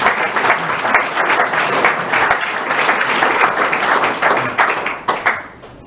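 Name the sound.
audience applause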